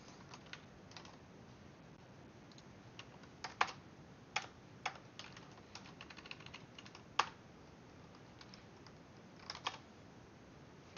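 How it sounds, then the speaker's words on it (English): Keyboard typing at a computer during a programming session, irregular bursts of soft clicks with occasional sharper keystrokes, close and fairly quiet, no talking. "me and my typing."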